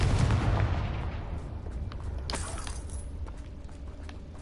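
A Confringo blasting spell explodes in Hogwarts Legacy with a loud, boomy burst at the start, then rumbling crackles and debris clatter that fade over several seconds.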